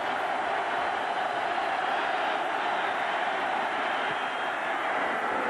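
Football stadium crowd at an Arizona at Miami game during a 51-yard field goal try, a loud, steady, far-off roar of many voices filling the whole stretch.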